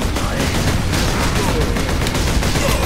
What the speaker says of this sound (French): Il tire des munitions explosives autopropulsées.